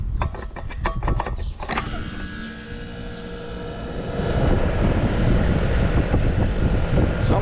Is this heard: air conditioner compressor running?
yes